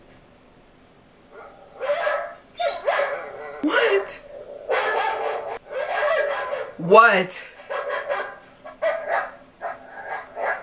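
A dog barks a few times in a tense scene from the horror film Paranormal Activity 2, mixed among frightened voices talking, with chuckling and laughter throughout.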